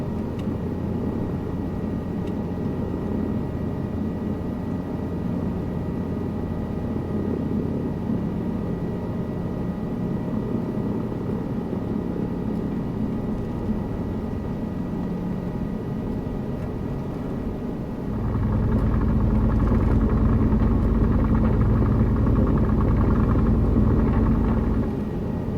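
A helicopter in Microsoft Flight Simulator 2024 gives a steady droning rotor and engine rumble that grows louder and deeper near the end, continuous and with no talking.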